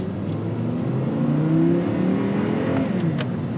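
An Audi R8 pulls away hard in first gear, its engine note rising steadily and loudly from inside the cabin as it accelerates, with no talk over it.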